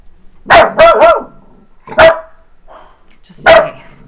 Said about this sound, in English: Ginger, you don't even know what you're barking at